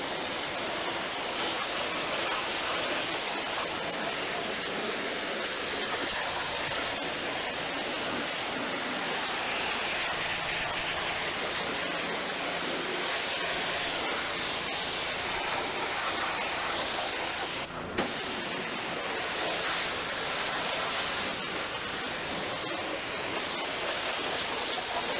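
A power washer sprays a steady, loud roar of water across a degreased, grimy car engine, a constant broadband hiss that runs unbroken and barely changes.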